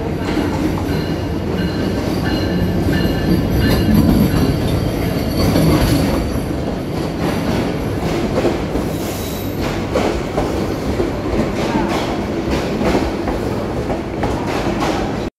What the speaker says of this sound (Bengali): ইতিমধ্যেই কক্সবাজার এক্সপ্রেস ট্রেনটি এয়ারপোর্ট স্টেশনে চলে আসছে